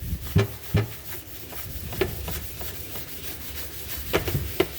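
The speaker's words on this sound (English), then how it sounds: "I'm gonna scrub it really good here." Aluminum pan scrubbed by hand with multipurpose cleaner, soft close rubbing strokes with a few sharper scrapes, fairly quiet and without speech.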